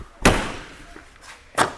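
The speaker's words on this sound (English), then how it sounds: "Close your door." The entry door of a Jayco Eagle HT 24RE travel trailer swings shut with a loud, close thud. A fainter knock follows, then a second firm slam, with no talking.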